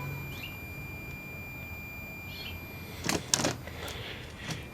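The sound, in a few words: R-100/URR shortwave receiver oscillator running at about 2 kHz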